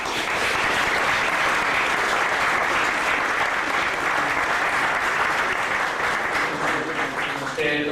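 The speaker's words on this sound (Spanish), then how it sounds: "Le damos un aplauso." An audience at a public event breaks into steady, full applause that continues evenly for several seconds before tapering, with a voice starting at the very end.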